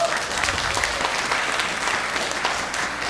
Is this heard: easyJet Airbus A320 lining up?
no